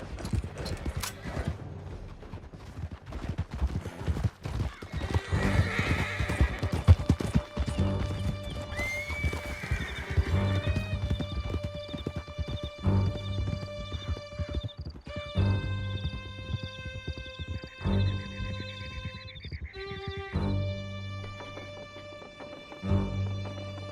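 Horses in the video game Red Dead Redemption 2 gallop with steady clip-clop hooves and loud neighs and whinnies, set against a game music score, with no talk.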